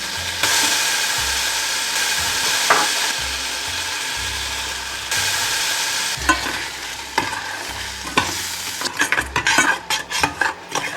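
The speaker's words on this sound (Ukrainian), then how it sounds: "додаємо кусочок масла і знов перемішуємо." Chocolate fudge of sour cream, cocoa, sugar and butter stirred in a saucepan: a steady scraping, swishing spoon circles the pot continuously, near and loud, with sharper clinks of utensil against metal near the end.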